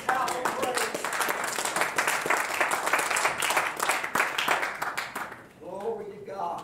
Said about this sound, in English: Why don't you give the Lord a good hand clap of praise?